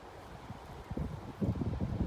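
Strong wind blows outdoors in a pea field, buffeting the microphone with low, uneven gusts that grow rougher and louder toward the end, with no voices over it.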